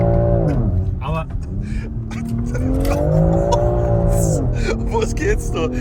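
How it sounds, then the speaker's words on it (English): A BMW X3 M accelerating with wheel spin in third gear, its engine note climbing and falling steadily under loud, continuous talk inside the cabin. "We have wheel spin in third gear."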